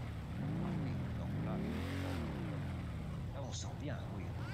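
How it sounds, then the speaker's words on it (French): A motorcycle engine idles and revs up and down close by, its pitch rising and falling in smooth swells, with people talking over it. "c'est la moto de Merle"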